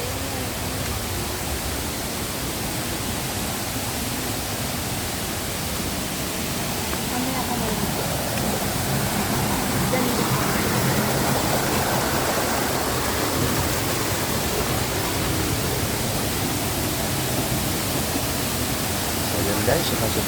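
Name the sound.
Mantayupan Falls waterfall rushing water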